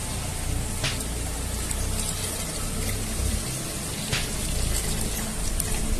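Surgical spirit containing 70% alcohol pours and splashes steadily into a beaker, a continuous close-up gushing with no voices.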